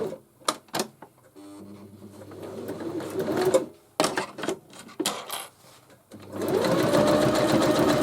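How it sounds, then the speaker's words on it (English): A sewing machine works on a bound paper pouch at close range, with bursts of mechanical clattering and whirring stitching runs broken by clicks and handling noises, ending in a sustained motor buzz. "change up my sewing machine a bit"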